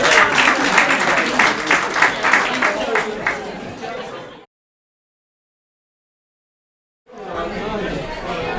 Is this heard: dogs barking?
no